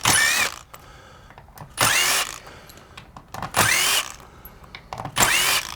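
A power drill taking the hinges off an entry door during a door replacement: four short, loud whirring bursts, each rising in pitch, separated by quieter pauses with faint handling noises, close by and with no speech.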